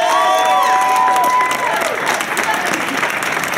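A festival audience at Spring Smokedown 2015 claps their hands, a dense loud burst of applause with some cheering and shouts, tapering slightly toward the end.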